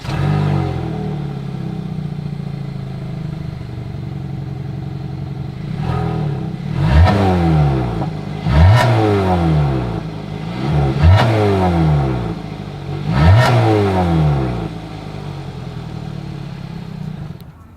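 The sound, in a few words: SUV exhaust engine revving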